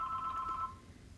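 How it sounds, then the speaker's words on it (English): A telephone's electronic ring, one steady tone burst lasting about two-thirds of a second before cutting off, fairly clear in a quiet indoor room. "trust that there's a purpose to that interruption and the bell ringing just at this moment"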